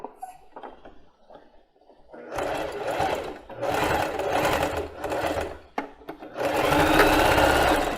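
A domestic sewing machine stitches plus-size panties in several loud, rapid whirring bursts separated by brief pauses, with faint handling clicks and rustles in the quieter gaps.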